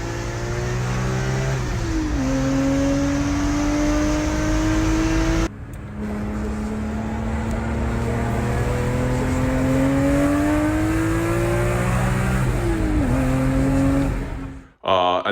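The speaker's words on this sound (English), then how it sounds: "the exhaust mufflers are Borla. They sound really good." A BMW M car fitted with Borla exhaust mufflers revs loudly and close, its engine note rising and falling through several long pulls with a brief cut partway and a sharp drop at the end.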